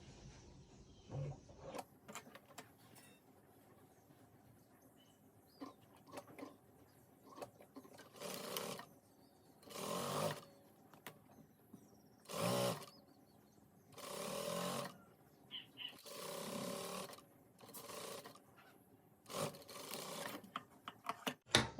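A sewing machine stitches a double-colour gown in a series of short, separate runs of rapid mechanical rattling, quiet and close, with pauses between bursts.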